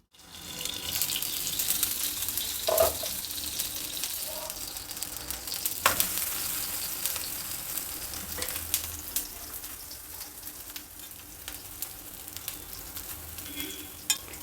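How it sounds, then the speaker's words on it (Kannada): Fenugreek leaf rice roti cooking in oil in a pan over a medium flame, a soft steady sizzle and crackle with occasional scraping and tapping, fairly quiet with no talking. "ಎರಡೂ ಸೈಡು ಎಣ್ಣೆ ಹಾಕಿ ಎರಡೂ ಸೈಡು ಚೆನ್ನಾಗಿ ಬೇಯಿಸಬೇಕು"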